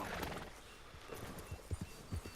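A horse in the video game Red Dead Redemption 2 clip-clops with quiet hoofbeats, several distinct thumps in the second half, following a soft whinny-like sound at the start, all fairly faint.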